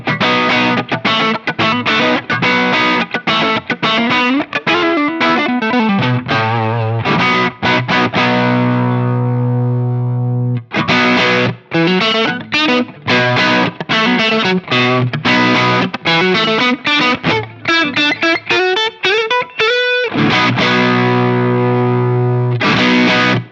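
Electric guitar through a Nobels ODR-Mini 2 overdrive pedal set with more drive, loud distorted chords and riffs with sustained ringing notes and brief pauses, played alone.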